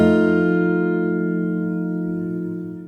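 Fingerstyle acoustic guitar plays a phrase of a song, several strings ringing together in a sustained chord that slowly decays, close and clear with no voice.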